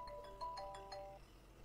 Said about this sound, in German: Oh, Telefon. Oh, muss ich wieder rechts ranfahren.